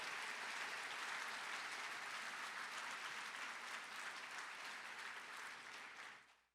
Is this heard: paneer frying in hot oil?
no